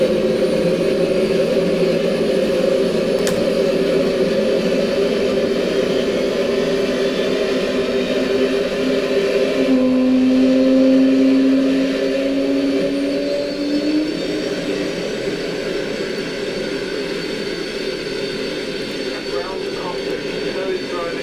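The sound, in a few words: Concorde jet engines in X-Plane 11 video game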